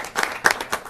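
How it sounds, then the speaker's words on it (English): A short burst of applause from a small group at a school board meeting honouring a student. A few uneven waves of hand claps pass in about a second, fairly close, with no talk over them. "let's give them a round of applause again"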